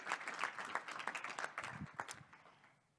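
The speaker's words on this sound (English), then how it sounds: "let's give all of our speakers another round of applause" Conference audience applauding the speakers at a closing session, a short burst of brisk clapping that fades out within a few seconds.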